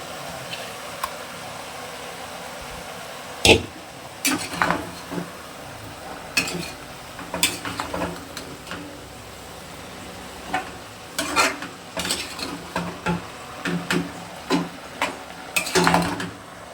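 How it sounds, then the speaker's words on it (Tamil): Masala being sautéed with half-cooked vegetables in a pot for biryani: scattered stirring scrapes and clinks of a spoon against the pot over a steady low sizzle, with no talking. "மசாலாவை நம்ம சேர்த்து வதக்கிடலாம்"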